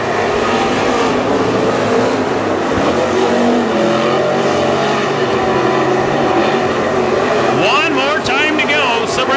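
WISSOTA Super Stock race cars roaring around the Granite City Speedway dirt track during the final heat race, a loud continuous engine drone with passing cars sweeping by, under an announcer's commentary.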